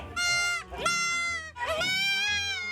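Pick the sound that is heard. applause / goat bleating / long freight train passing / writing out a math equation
goat bleating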